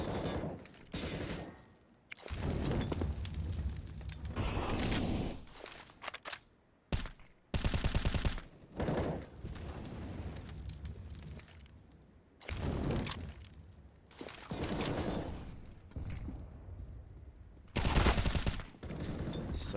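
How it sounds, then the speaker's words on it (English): Gunfire and grenade blasts in a competitive Counter-Strike match, with repeated bursts of rapid shooting and sharp explosions coming in dense clusters separated by brief lulls, loud and close. "Some nice nades here thrown at the A ramp. That's going to tag Temple all the way down to 16 HP."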